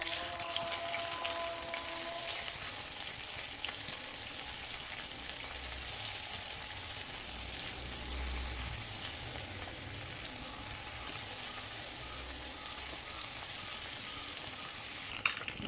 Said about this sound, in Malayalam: എണ്ണ ചൂടായിട്ടുണ്ട്. ഇതിലേക്ക് മീനിട്ട് കൊടുക്കാം.